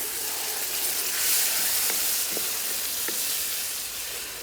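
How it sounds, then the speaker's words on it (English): Ground tomato and chili powder masala frying in oil for a lamb and spinach curry cooked outdoors in a garden, a steady soft sizzle and hiss with a few faint stirring clicks, fairly quiet and alone. "Then I'm going to fry till the oil separate."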